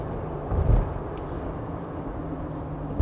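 Steady low drone of a 2020 Jeep Gladiator engine cruising in fourth gear, heard from inside the cab with road rumble and a brief louder surge early on.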